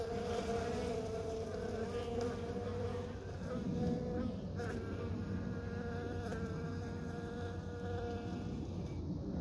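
Released honeybees buzzing steadily and close, a dense continuous drone of wings with several insects overlapping, with no talk.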